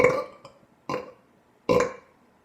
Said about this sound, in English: try to do a really loud belch,